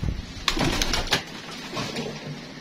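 Pigeons coo and rustle close by in a home loft, with a few soft bird calls and brief stirring noises in a short burst.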